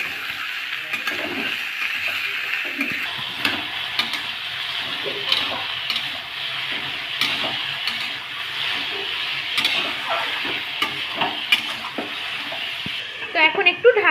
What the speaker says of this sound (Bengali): তো আলুগুলো আমরা যেরকম আলু ভাজা করা হয় সেভাবে আমরা ভেজে নেব।